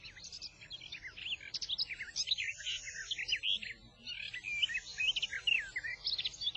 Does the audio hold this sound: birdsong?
yes